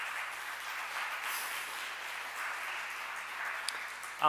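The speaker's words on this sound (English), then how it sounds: "So please join me in one more round of applause for everyone who makes this possible." Faint, steady applause from an audience at a library celebration for a writer-in-residence reading, a soft continuous wash of clapping heard from a distance.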